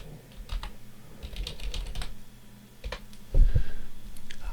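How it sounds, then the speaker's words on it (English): Someone typing a password on a computer keyboard during a Lubuntu 24.04 install on a Radxa X2L mini PC, with scattered soft key clicks at close range and a heavier thump near the end. "Just tap in the password because everything is password protected."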